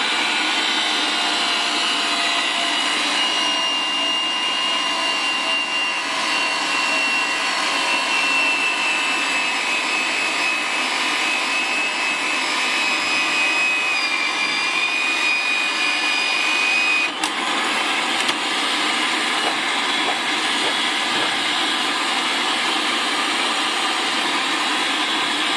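A pipe threading machine cuts threads on a steel pipe, giving a steady, loud mechanical whir with a high whining tone that runs unbroken for the whole stretch, with a brief clunk near the end.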